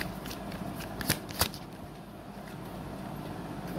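Tarot cards shuffled and drawn, a soft continuous riffling hiss with two sharper snaps of cards, close and quiet, with no talking.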